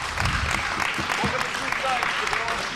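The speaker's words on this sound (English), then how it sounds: "round of applause from these fans" Wrestling fans at an independent show applaud after a hammerlock and snapmare, a thin crowd clapping beneath a commentator's ongoing voice.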